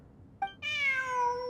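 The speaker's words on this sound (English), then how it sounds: "Oh, kitty. Look, a cat." A cat in a Genshin Impact or Zenless Zone Zero game gives a short chirp and then a drawn-out, clear meow, close and distinct over a soft background hum.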